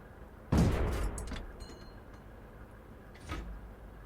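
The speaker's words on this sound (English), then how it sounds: "somebody's shooting in my vicinity" Tank gunfire in the game World of Tanks: one loud, close boom with a rumbling tail, then a fainter, more distant shot about three seconds later.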